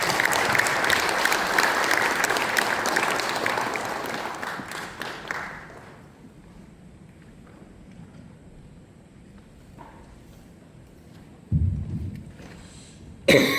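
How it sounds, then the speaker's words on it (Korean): Attendees at a Jeonju peaceful unification advisory council meeting applaud warmly to welcome the mayor. Dense clapping fills the first six seconds and then stops, leaving a quiet room with a couple of brief bumps and a cough-like sound. "뜨거운 박수로 환영해 주십시오."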